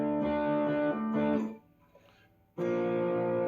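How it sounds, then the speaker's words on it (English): Electric guitar through an Englishman distortion pedal voiced like a Marshall plexi: two sustained, crunchy distorted chords ring out close and loud, with a short near-silent gap before the second. "distortion, which is like supposed to be a Marshall kind of sound"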